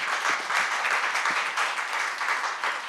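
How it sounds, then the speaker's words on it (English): An audience at an urban greening event in Belgrade claps in a steady, dense round of applause that holds at an even level throughout, with no voices over it. "And give them all a round of applause,"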